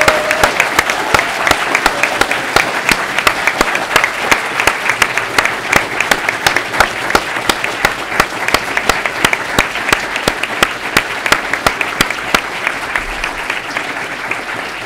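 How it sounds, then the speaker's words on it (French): An audience at a political meeting breaks into loud, sustained applause with crisp, closely packed claps that keep an even intensity from start to finish. "un énorme applaudissement pour"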